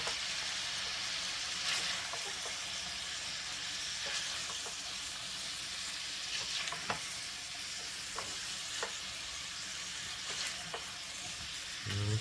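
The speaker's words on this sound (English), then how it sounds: "Just a little stir around." Slow-cooked beef stew with its juices and fat stirred in a pot, a soft constant sizzling hiss with scattered light scrapes of the spoon against the pot, fairly quiet with no talking.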